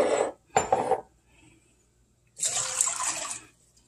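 Water splashes and pours into a cooking pot to make a chow mein sauce, in two short bursts followed by a longer, steadier pour, with a faint clink of kitchenware and no talking.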